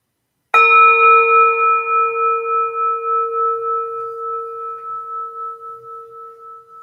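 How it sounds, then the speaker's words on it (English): A meditation bell is struck once at the start of a sitting session. It rings out with a bright attack, then a long, clear tone slowly fades with gentle wavering beats, alone in near silence. "And I'll invite the bell."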